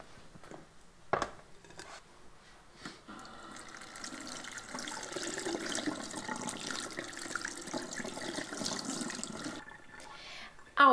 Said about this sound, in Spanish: Ahora vamos a pasarla por agua fría.